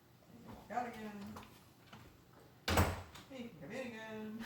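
A house door opens and shuts at a threshold while a trainer works with a dog greeting visitors; a single sharp broadband thud lands midway, with someone talking before and after it.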